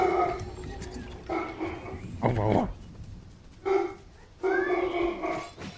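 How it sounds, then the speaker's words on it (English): A dog in a Fortnite match gives a menacing bark, several short harmonic bursts spread through the stretch, moderately loud and mixed with game sounds and someone talking. "He's got a menacing bark."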